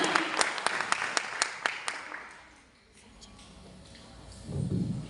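A hall audience at a poetry evening breaks into sharp, rhythmic applause welcoming poets to the stage, which fades into quiet before a voice begins speaking.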